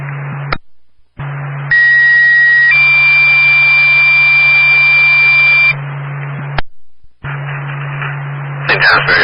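A loud, steady two-tone alert tone from the St. Johnsbury Fire Department dispatch recalls members for flooding standby in Caledonia County. The tone holds for about four seconds, with crackling radio static before and after.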